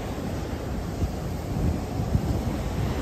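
Ocean surf at Bajamar beach on Tenerife gives a dense, steady wash of breaking waves mixed with gusty wind buffeting the microphone, with no voices.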